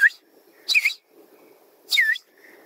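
Two short, high whistles a second apart, each with a quick rising-falling pitch, a person imitating a tapir call against quiet background.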